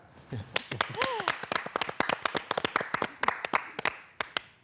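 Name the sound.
group clapping at press briefing after Nuri rocket launch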